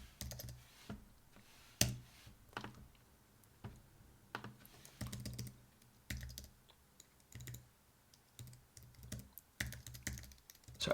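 Someone types on a computer keyboard in irregular bursts of sharp clicks and heavier keystrokes, close and fairly quiet, with short pauses between runs.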